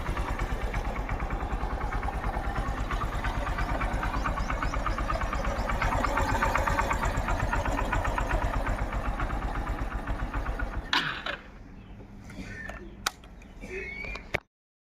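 A Hero Passion Xpro motorcycle engine idles with a steady, rapid putter for most of the clip, then cuts out, leaving faint handling noises.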